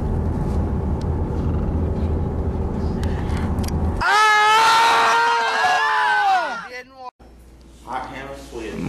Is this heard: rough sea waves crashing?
no